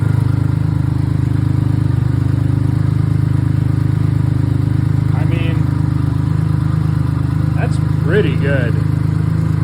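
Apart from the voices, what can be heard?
BMW K75 motorcycle engine idling just above 1,000 RPM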